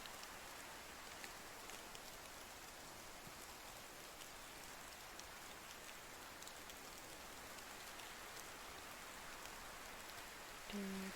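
Steady in-game rain from Medieval Dynasty hisses evenly across the whole stretch, a dense wash of drops falling on surfaces, with no talk and only a small bump near the end.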